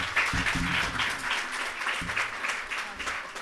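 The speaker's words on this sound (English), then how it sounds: "Let's give a big round of applause to everyone here today" Steady audience applause closing a medical and dental student guidance session, a continuous patter of many hands at moderate volume with a few low voices or noises mixed in.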